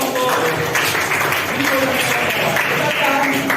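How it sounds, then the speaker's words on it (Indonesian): A room of people applauds a presenting group, a steady wash of clapping with voices mixed in throughout. "tepuk tangan untuk kelompok"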